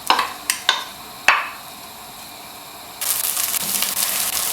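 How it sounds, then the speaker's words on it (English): Sliced onions for aloo gosht drop into a little heated oil after a few sharp clinks, then a sudden loud, steady sizzle rises and holds. "So we start by heating a little oil. In goes the onions."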